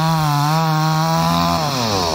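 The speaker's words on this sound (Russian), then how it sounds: "Я когда слышу бензопилу, у меня сразу появляется настроение," A petrol chainsaw cuts firewood, its engine droning loud and steady close by, the pitch sagging slightly as the blade bites into the wood, with no other sound.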